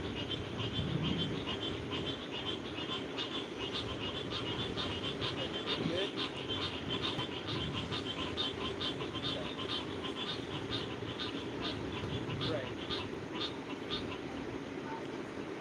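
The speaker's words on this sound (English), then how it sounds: "Y'all can hear those frogs that good?" Frogs croak outdoors at night, a dense, continuous chorus of rhythmic trilling calls at moderate distance, heard steadily beneath a person talking.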